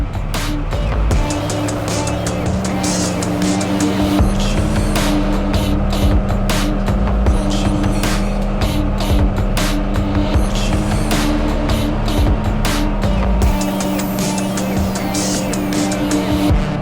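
Trophy truck racing fast on an off-road track, a loud, steady engine roar with constant drone and rattling over rough ground, no speech.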